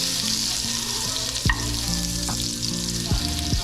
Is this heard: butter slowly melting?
yes